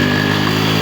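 Yamaha RX motorcycle climbing a steep uphill road, its two-stroke engine held at a steady, loud, buzzing rev with no pauses and no speech.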